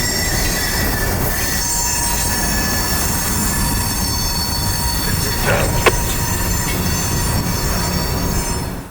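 Empty freight hopper cars roll past on a grade in a loud continuous rumble while steel wheels squeal in high, sustained tones throughout.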